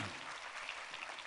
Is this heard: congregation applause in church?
yes